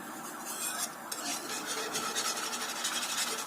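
Continuous scraping and stirring of a utensil through pandan cake batter in a pot over low heat, close and steady, with small clinks, no talking.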